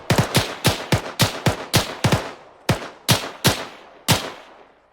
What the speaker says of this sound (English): Shooting down the alley.